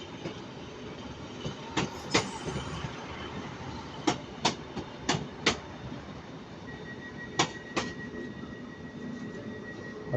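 A Class 156 diesel multiple unit rolls through Manchester Piccadilly station, its wheels giving sharp, repeated clicks and clacks over rail joints amid a steady rumble, with a thin squealing tone near the end.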